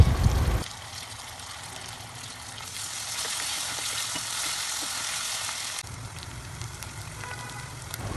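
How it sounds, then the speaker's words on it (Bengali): Ginger-garlic paste with coriander and cumin paste frying in oil alongside whole spices such as peppercorns and cardamom, giving a moderate, continuous sizzle and crackle with a soft bubbling hiss, fairly close and steady. "সব কিছু একটু ভেজে তারপর দিয়ে দিব 2 চামচ আদা রসুন বাটা ও 1 চামচ ধনিয়া আর জিরার পেস্ট"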